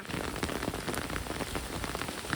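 Steady first-season rain pours down outdoors, a dense, even patter of drops hitting the ground and surfaces close by, continuous and fairly loud with no voices.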